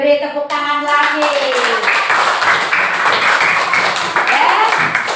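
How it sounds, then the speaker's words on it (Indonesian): A class of children claps in a classroom, a dense patter of hand claps running steadily throughout after a brief moment of an adult voice at the start. "beri tepuk tangan lagi"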